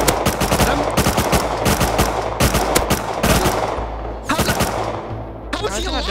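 AK rifle fire in the game Rust, heard as loud, rapid bursts of automatic shots in quick repeated runs with brief gaps, close and dominant throughout.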